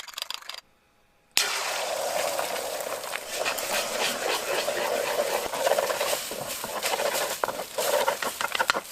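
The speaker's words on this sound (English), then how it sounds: "you want to make sure to start beating your eggs" Eggs beaten in a bowl for Mexican fried rice make a rapid, continuous tapping patter close to the listener. It starts after a short silent gap near the beginning, with no speech.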